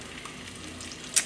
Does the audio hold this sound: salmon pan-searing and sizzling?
yes